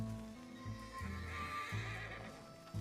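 A horse neighs and whinnies in a video game after crashing into a tree, with hoof clip-clop beneath, loud and close over about three seconds.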